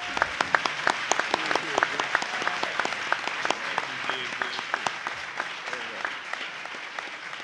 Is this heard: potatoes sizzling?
no